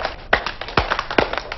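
Hands clapping on a children's TV show, a handful of sharp claps in an irregular rhythm, fairly close and clear, with no voices over them.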